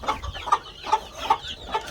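A Cochin bantam hen in a coop with chicks clucks five times in a steady, evenly spaced rhythm, close and clear against a quiet background.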